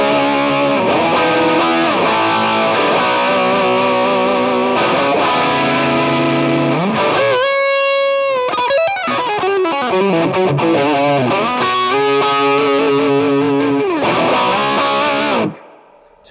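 Electric guitar run through a Marshall-style amp pedal with lots of gain, dense distorted chords and riffs with a brief fast lead run, loud and close, cutting off near the end.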